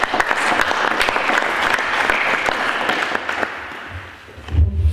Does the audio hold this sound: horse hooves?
no